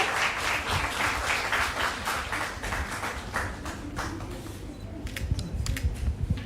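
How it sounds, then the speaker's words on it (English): A conference audience gives a round of applause, many hands clapping in a dense, sustained wash that thins toward the end into scattered individual claps. "I request the audience to please give a round of applause."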